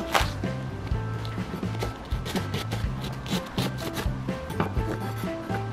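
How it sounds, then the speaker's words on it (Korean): A knife minces green onion on a cutting board in a home kitchen, with quick, irregular chopping taps close by over soft background music and no talking. "우선 파 하나를 잘 다져줍니다"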